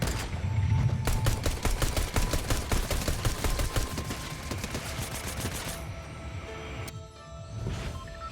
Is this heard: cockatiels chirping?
no